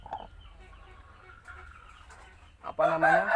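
A protective mother hen with chicks clucks loudly and agitatedly close by near the end, after a stretch of quieter low murmurs and background noise.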